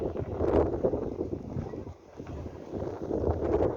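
Strong wind blows at Mukho port in Gangwon during a wildfire, a steady, rumbling roar that buffets the microphone and eases briefly midway before surging again.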